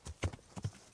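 Horse hooves clip-clop on the ground in the video game Kingdom Come: Deliverance, a quick uneven pair of double beats, close and moderately loud with no talk over them.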